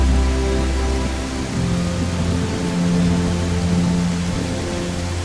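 Steady rain falls in the video game Bigfoot, a broad, constant wash of patter heard close and fairly loud beneath a low humming drone.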